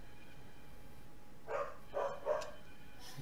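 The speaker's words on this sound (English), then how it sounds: "Hey, my dog." A dog gives three short barks, close together, heard faintly indoors above a low steady background hum.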